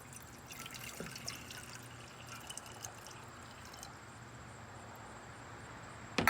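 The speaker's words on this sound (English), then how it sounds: "First, you'll need a glass and pour water inside." Water pours into a glass as a gentle, steady trickle and splash lasting several seconds, fairly quiet and close, with no one talking.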